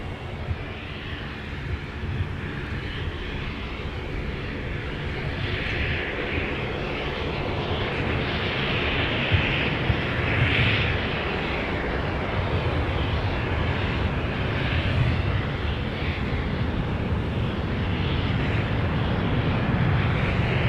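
A Southwest airliner arriving on runway 30 left at Minneapolis–St. Paul airport, its engines giving a loud, steady roar with a broad whooshing rush that holds throughout.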